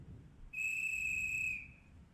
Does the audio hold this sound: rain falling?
no